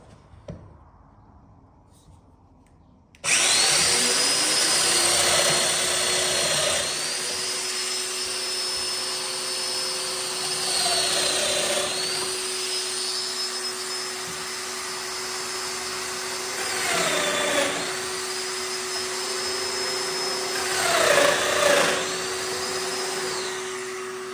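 A domino joiner cuts mortises in wood on a workbench after a short quiet start, its motor whining loud and steady with brief dips and surges as each of several cuts is made.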